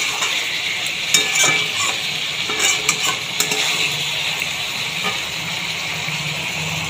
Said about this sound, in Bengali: আমি তরকারি প্রচুর কষি